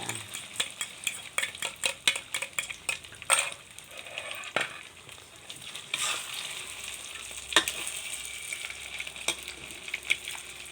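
Cooked rice with egg and golden fried garlic stir-fried in a pan, for a fried rice with fermented pork, giving a continuous soft sizzle broken by repeated sharp scrapes and clanks of a spatula against the pan, with no voices.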